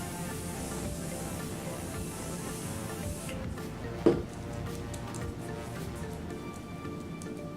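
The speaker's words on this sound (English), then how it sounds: "I'm going to go ahead and use my Morphe Continuous Setting Spray here in order to meld all of these" Morphe Continuous Setting Spray mists in a long steady hiss for a few seconds, then stops, followed by a single sharp click and quiet room sound; no one speaks.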